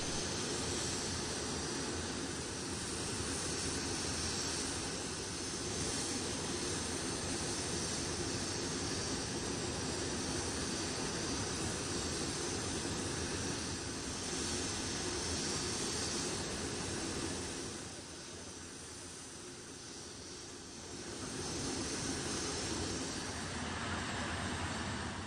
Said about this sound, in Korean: 러시아의 친선 사설들을 태운 비행기는 군중들의 열렬한 환송을 받으며 이륙했습니다.